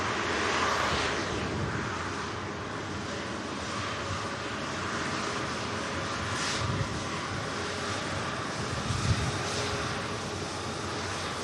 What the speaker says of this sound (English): the Dreamliner taxis by